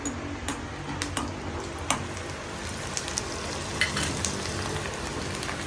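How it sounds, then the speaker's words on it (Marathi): Kolambi papad (prawn papad) frying in hot oil, a steady low crackling sizzle with scattered small pops throughout, moderately close and without speech. "आणि आता कोलंबी पापड फ्राय करते स्नेहा."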